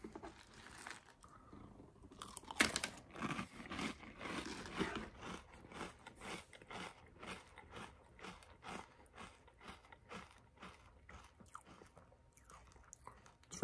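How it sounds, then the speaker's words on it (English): Magic Spoon cereal being chewed close up, a long run of rhythmic crisp crunches with no talking. "Very crunchy."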